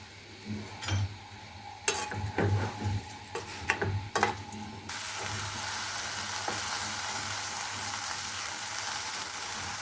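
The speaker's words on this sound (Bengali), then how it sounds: "এখন একটু ভেজে রান্না করে নেব।" Chicken fries in oil with ginger paste, garam masala, bay leaf and salt, stirred with sharp utensil scrapes and clicks at first, then settling into a steady, even sizzle.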